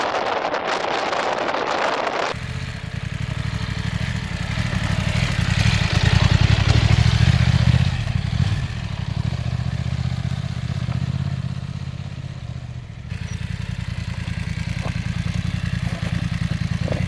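A BMW F900XR touring motorcycle ridden off-road gives a steady engine drone under heavy wind buffeting on the microphone, with rattles and clatter from rough ground, loud and close throughout.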